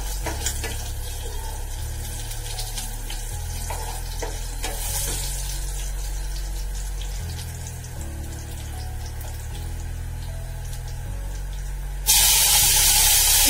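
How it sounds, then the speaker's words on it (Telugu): A pan sizzles steadily as food fries with a pinch of turmeric and is stirred, a constant crackling hiss with low stove hum beneath, then a loud rushing burst like running water near the end. "ఫ్రై అయ్యాక చిటికెడు అంతా పసుపు వేసుకుందాం. పసుపు వేసుకొని మళ్ళీ కలిపించి"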